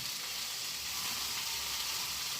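Dill greens fry in a pan with a dense, even hiss of hot oil that holds steady and close throughout, with no other sounds.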